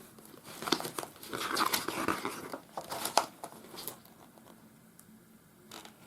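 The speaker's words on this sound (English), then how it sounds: "I'll just keep turning some of the pages." Pages of an old Victorian scrapbook being turned by hand, giving soft papery crinkles and rustles that come in a busy cluster and then fade to quiet, heard close and faint with no talk.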